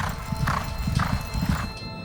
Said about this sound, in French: Plus de 900 chevaux de course s'entraînent ici chaque jour.